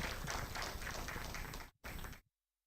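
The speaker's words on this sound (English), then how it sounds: "Please give an applause." An audience at an energy efficiency workshop applauds a speaker being introduced, a dense, steady patter of many hands clapping that breaks briefly and then cuts off into silence.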